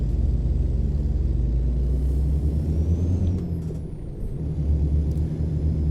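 A Kenworth T600 truck in American Truck Simulator drives along with a loud, steady low engine rumble and drone, holding nearly constant throughout with a slight dip midway.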